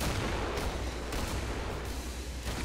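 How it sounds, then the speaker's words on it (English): Grenade blasts and rapid gunfire from the zombie shooter game Killing Floor form a dense, continuous barrage of booming shots with no gaps, steady and loud throughout. "Another grenade out."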